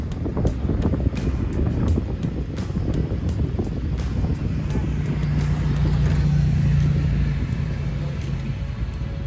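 Vehicles racing on the sand at Pismo Beach, a steady engine rumble mixed with heavy wind buffeting the microphone, continuous and moderately loud throughout with a swelling drone near the end.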